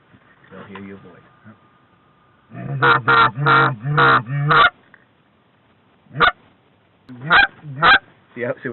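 A flock of resident geese flying high overhead honks in loud repeated bursts during a hunt on Long Island, the calls coming in clustered volleys with pauses between, after a brief stretch of talk at the start.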